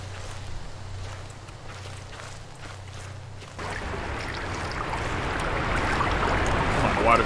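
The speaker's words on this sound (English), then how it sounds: "Come on, the water's not that loud." Flowing water in the horror video game Slender: The Arrival, a steady broadband rush that starts softer and swells louder and closer midway, continuing as a constant wash to the end.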